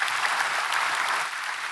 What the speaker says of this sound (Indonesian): Coba beri tepuk tangan buat Tuhan Bapak.